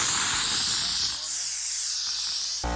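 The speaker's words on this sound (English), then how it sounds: "Need to let the air out of this tire." Loud, steady hiss of air escaping from a heavy truck tire valve, broad and continuous throughout with a brief break near the middle and a sharp burst at the end.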